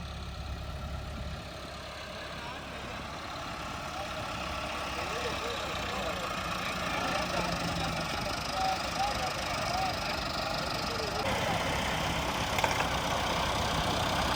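A tractor stuck in mud idles with a steady low rumbling engine drone that holds throughout, slightly swelling midway, while people talk over it.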